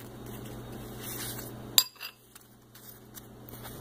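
Powdered sugar is mixed into marshmallows in a bowl, with one sharp utensil clink against the bowl followed by faint scraping and light taps.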